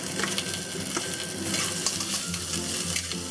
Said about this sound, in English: And stir fry this for about 30 seconds till the onion soften up a bit